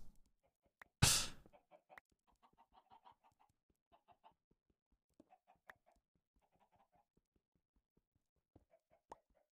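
Chicken clucking in short, scattered bursts, fairly close, with a loud flapping or rustling burst near the start; no talk.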